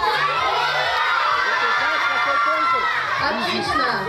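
A crowd on the aft deck of the motor ship N. Gogol cheers and shouts loudly and continuously, children's high voices prominent among the excited chatter, close and filling the space.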